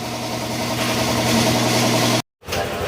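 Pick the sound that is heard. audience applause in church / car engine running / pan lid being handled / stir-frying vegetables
car engine running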